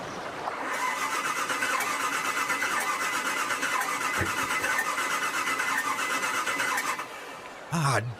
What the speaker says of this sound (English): The boat motor won't start, Helen.